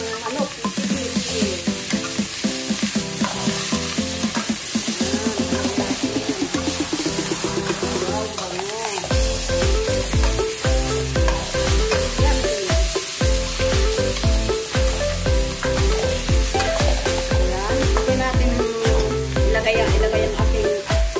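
Chicken sizzles in a pan with sautéed garlic and onion for chicken tinola, a continuous frying hiss running under loud background music.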